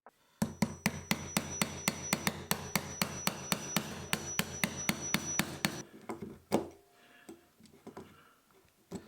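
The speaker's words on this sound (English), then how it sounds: "chisel a little bit out and just make these wings fit" Steady rapid hammer taps on a chisel cutting wood to fit door latch wings, about two strikes per second, close and sharp, stopping after six seconds followed by a few scattered knocks.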